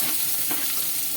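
Chopped onions fry in hot oil with crackling cumin seeds in a pan, giving a loud, continuous, close sizzle with no talking.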